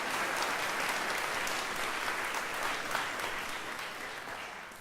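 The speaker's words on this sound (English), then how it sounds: "So let's give them a round of applause." A large audience at a university diploma ceremony breaks into sustained, dense applause that stays steady and loud throughout, with no talk over it.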